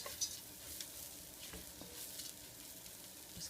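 Spices toast in a pan with onions for mulligatawny soup, giving a faint, soft sizzle with occasional light stirring scrapes. The sound is quiet and close, and no one speaks.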